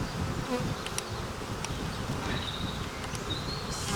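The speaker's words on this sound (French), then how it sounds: "ma reine est là, j'ai beaucoup d'abeilles" Honeybees buzz steadily around an opened hive frame with the queen present, a dense, continuous hum close to the microphone with occasional individual bees droning past.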